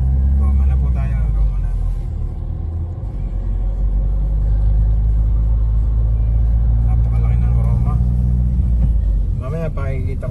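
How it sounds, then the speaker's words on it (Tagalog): Steady low road rumble heard from inside a moving car in traffic on the way to Rome, a constant engine and tyre drone throughout, with a person talking over it. "Traffic din pero panayad na lang ang traffic."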